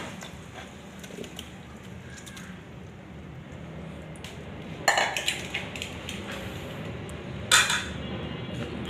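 Beef goes into a non-stick rice cooker pot for cooking with jackfruit seeds, sounding as a low steady background with two sharp metallic utensil clinks partway through and near the end.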